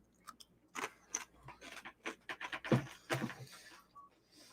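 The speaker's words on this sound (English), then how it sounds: "Let me mute my mic so you don't hear me crunching." Someone crunches a snack while eating, with soft, irregular crisp crackles and chewing bursts close to the microphone. The sound is quiet and steady for several seconds, with no talking.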